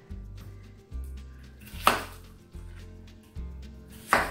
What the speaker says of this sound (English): I'm gonna cut up an onion real quick.